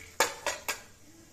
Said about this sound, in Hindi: दाल पिस गई है, अब इसको मैं ढक के रख देती हूँ